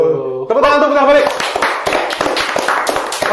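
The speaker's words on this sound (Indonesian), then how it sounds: "Tepuk tangan balik." Applause from a small group in an Indonesian podcast studio, brisk close hand claps building after a voice speaks briefly at the start, continuing as a dense, fairly loud patter with some laughter.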